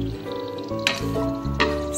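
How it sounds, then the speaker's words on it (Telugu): Bay leaf, cloves and cardamom frying in hot oil in a pressure cooker, a soft sizzle with a couple of brief crackling bursts, close by, no voices. "ఆయిల్ హీట్ ఎక్కిన తర్వాత బిర్యానీ ఆకు, లవంగాలు, యాలక్కాయలు పట్టా వేసుకుని ఫ్లేవర్ వచ్చే వరకు వేయించుకోవాలి."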